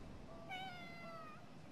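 A faint single meow from a cat in the video game Conarium, a short drawn-out call rising over soft ambient game background.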